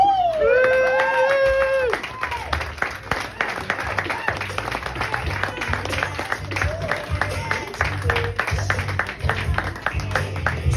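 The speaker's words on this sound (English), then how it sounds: "Round of applause for Miss Clarice" A comedy club audience breaks into loud, sustained applause after a stand-up set, dense clapping mixed with some cheering and a voice briefly talking at the start.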